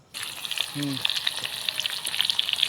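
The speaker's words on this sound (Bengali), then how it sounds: "পেঁয়াজগুলো একটু ব্রাউন করে ভেজে নেব" Onions frying in oil left over from frying tilapia fish, a steady close sizzle with crackling pops running throughout, plus a brief low utensil scrape early on.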